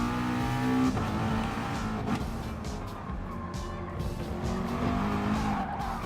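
A racing car in Gran Turismo Sport nearly spins out, its tyres squealing and skidding in a steady, moderately loud smear over the continuous drone of the engine, with no one speaking.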